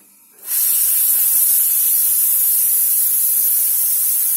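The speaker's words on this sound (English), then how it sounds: "So that's what the steaming looks like out of the 2-hole tip." An espresso machine steam wand with a 2-hole tip, on an ACS Minima dual boiler prototype, opens abruptly into a loud, steady, dry hiss that holds unbroken to the end.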